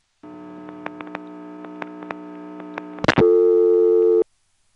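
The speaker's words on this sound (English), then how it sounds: "after the coin collect, instead of going back to dial tone, it put us on lockout" A steady, humming 1970s telephone line tone sounds with scattered clicks, followed by a crackle after coin collect and then a louder, harsher lockout tone that cuts off abruptly.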